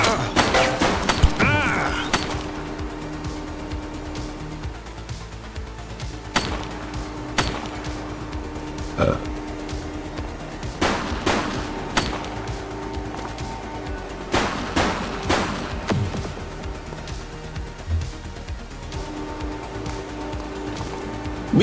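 Enemy gunfire in the police video game The Precinct, scattered loud shots and short volleys cracking at irregular intervals over a low background rumble, with occasional brief voice sounds.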